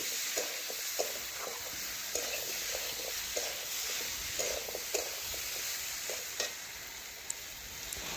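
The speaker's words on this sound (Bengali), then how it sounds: "দেখুন একসাথে সমস্ত সবজি কষে নিচ্ছি" Mixed vegetables frying with spices in a pan, a steady sizzle with repeated light scraping and stirring strokes, moderately quiet and close.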